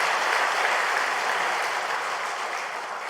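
A church congregation applauds the combined choir during a Sunday service, steady, dense clapping that fills the room evenly throughout with no voices over it.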